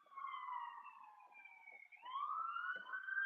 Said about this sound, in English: There's our sirens on cue.